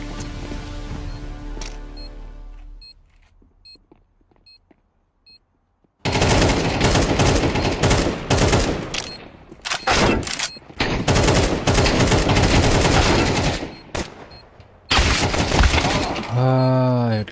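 Dense video-game gunfire: rapid automatic bursts and repeated shots, loud and close, with quieter gaps between volleys and a voice talking at times.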